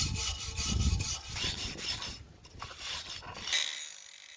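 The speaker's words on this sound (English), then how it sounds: "quickly get the wire brush, take off all the dirt and rust from off this bit of angle" A wire brush rubs and rasps across a length of steel angle to clear dirt and rust before welding, giving repeated close scrubbing strokes in uneven bursts with a brief pause near the end.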